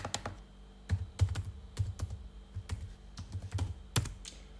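Typing on a computer keyboard, a run of irregular close key clicks and taps in uneven bursts, with no voices.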